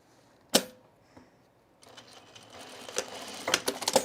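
A sewing machine sews a utility skort, starting with a sharp click and a short pause, then rattling through a few close, uneven bursts of stitching.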